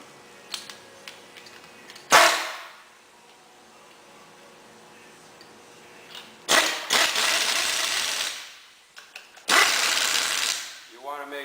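Bolts are run in on a Mitsubishi 4G63 bellhousing and all-wheel-drive flywheel with a power tool in three loud buzzing bursts, one short and two lasting a couple of seconds, separated by quiet workshop pauses.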